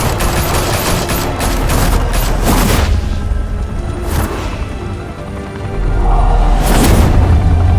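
Video game gunfire in Batman Realm of Shadows: rapid bursts of shots and booming blasts rattle loudly, with a brief lull in the middle before another heavy burst, and no voices.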